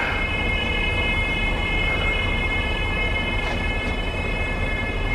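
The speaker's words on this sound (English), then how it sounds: "the second engine has just been started by Robin on the other side of the carriage." A diesel multiple unit on the West Somerset Railway idles with a steady low engine rumble and droning tonal hum, continuous and fairly close, with no voices.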